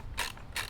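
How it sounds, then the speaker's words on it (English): Two short bursts of ratchet clicking from a ratchet being tightened on a camera kit, each a rapid, fairly close metallic ratcheting sound with a brief pause between them and no talk. "Ratchet it tight."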